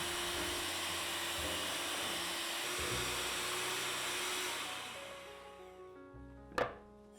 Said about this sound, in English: Using a mixer, beat it for approximately 2 minutes.